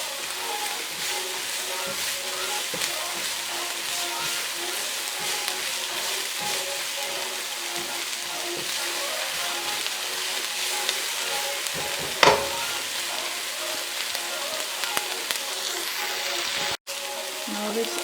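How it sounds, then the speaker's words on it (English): Onion frying in oil until golden brown for a karahi chicken thighs dish, a steady close sizzle with stirring scrapes that runs throughout, broken once by a brief knock near the end. "Just wait until golden brown, the onion."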